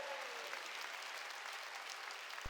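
A church congregation at a Wednesday worship service claps together in a dense, steady burst of applause lasting a couple of seconds, close and fairly loud, with no speech over it.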